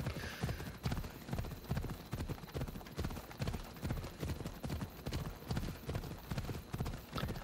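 Rhythmic clip-clop of horse hooves galloping on firm ground in Assassin's Creed Odyssey, steady and fairly close, with a faint game-like ambience and no talking.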